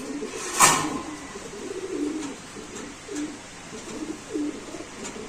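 Racer pigeons coo in a series of soft, low, throaty calls spaced a second or so apart, with a brighter chirp near the start and a faint hiss behind them.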